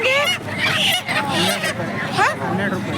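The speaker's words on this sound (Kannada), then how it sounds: "ನಾಟಿ ಕೋಳಿಗಳು ನೋಡಲ್ಲಿ" Native country chickens squawk and cackle in bursts amid the chatter of a busy weekly village market crowd, the birds loud and close against steady market babble.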